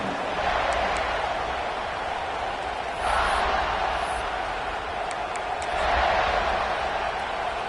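A football stadium crowd roars in a dense, sustained wash of cheering that swells and eases in waves, loud and continuous with no clear single voices.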